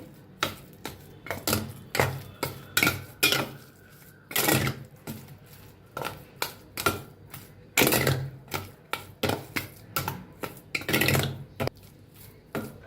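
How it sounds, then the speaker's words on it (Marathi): A spoon beats semolina batter with cardamom powder in a bowl, giving a quick run of sharp, irregular clacks and taps, close and fairly loud, with no talking. "आता बघा एक चमचा इलायची पावडर घालते छान मिक्स करून घेऊया"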